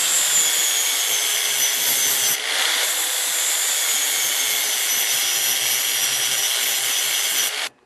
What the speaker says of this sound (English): The reason why I'm grinding them down is just to make it look better.